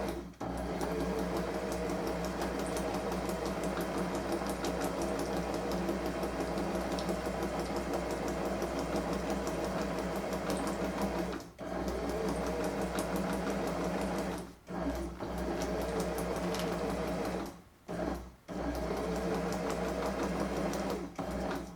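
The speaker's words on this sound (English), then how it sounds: "make sure your hands can keep up with the pace of how the sewing machine is moving" A sewing machine stitches steadily at a fast, even pace, running almost continuously with a few brief pauses near the end.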